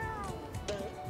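A short cartoonish cat meow from the video game Battle for Bikini Bottom Rehydrated rises and falls once, fairly faint, over low background noise.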